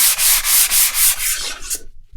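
Ultra fine sandpaper rubbing back and forth in steady, rhythmic strokes, loud and close, about eight passes before the scraping trails off and stops.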